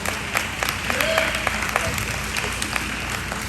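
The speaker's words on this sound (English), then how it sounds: "Let's get a round of applause for Benedict College." An alumni gathering audience claps for Benedict College, a moderate wash of applause with scattered sharper claps and some crowd murmur beneath.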